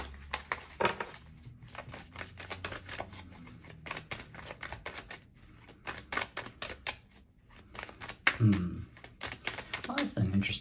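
Tarot cards being shuffled in the hands, a run of quick papery riffles and flicks close up, with a speaking voice in the background and a few soft knocks toward the end.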